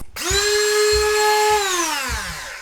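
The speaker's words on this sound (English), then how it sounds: "Get my drywall cutter." Handheld drywall cutter, a rotary cutting tool, spinning up to a steady high-pitched whine while cutting drywall for a pantry wall access panel in a bathroom remodel, loud and close, its pitch sagging slightly toward the end, with low thumps beneath.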